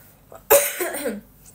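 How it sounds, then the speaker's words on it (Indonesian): A single sharp cough, close and clear, followed by a brief raspy tail, then quiet. "Masih batuk"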